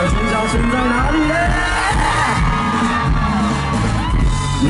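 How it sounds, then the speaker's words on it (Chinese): A large outdoor crowd at a New Year's Eve countdown concert and fireworks show at Tamsui Fisherman's Wharf screams and cheers continuously, a dense, loud wall of shouting voices with whoops rising over the mass. "全场的尖叫声在哪里呢？"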